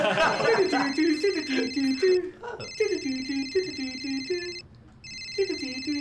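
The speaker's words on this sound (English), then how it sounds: "Hey, Anesti, it's the phone." Telephone ringing in repeated electronic bursts with short gaps between them, while people talk over the rings.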